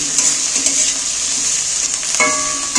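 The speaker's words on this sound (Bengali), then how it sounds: "এইবার আমি তেলের মধ্যে পেঁয়াজগুলোকে নাড়াচাড়া করে ভেজে নেব" Chopped onions stirred and fried in hot oil for a chicken curry, a loud steady sizzle with a few spatula scrapes against the pan, close up and without talk.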